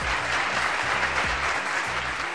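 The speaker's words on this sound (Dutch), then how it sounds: "Applaus als je vindt dat Ziggy de battle gewonnen heeft." Theater audience applause votes for the winner of a hip-hop dance battle, a full, even burst of clapping that holds steady at close range with a low rhythmic pulse of music underneath.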